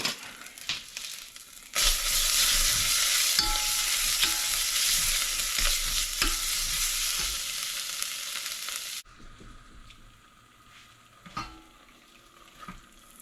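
Lamb shank cooking in a pan, a loud hissing sear that runs for several seconds, then drops to a softer bubbling with a few utensil knocks, no speech.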